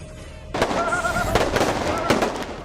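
Diwali firecrackers and fireworks bursting in Bengaluru, several sharp pops and crackles in quick succession with a whistling rocket tone, close and loud.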